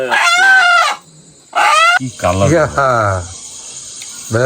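A rooster crows loudly and close, two strained calls separated by a brief pause, followed by people talking.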